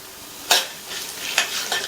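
Chana dal, urad dal and mustard seeds frying in hot oil in a pan, with a steady close sizzle and two sharp bursts of crackle and spatter as the stirring goes on.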